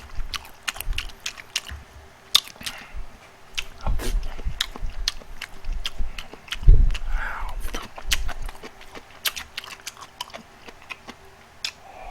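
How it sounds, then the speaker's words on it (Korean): Loud, close chewing and biting while eating a convenience-store galbi lunchbox, with repeated wet smacking and crunchy bites in an irregular rhythm throughout and a few heavier thuds. "쩝쩝 중에 내 쩝쩝이 제일 소리가 커?"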